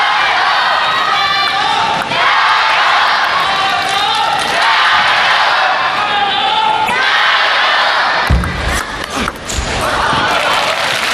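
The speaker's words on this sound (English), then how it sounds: "And despite the crowd chanting for Ma Long" A loud crowd chants for Ma Long during a table tennis semifinal at the 2015 China Open, with a dense, sustained roar and a sharp knock near the end.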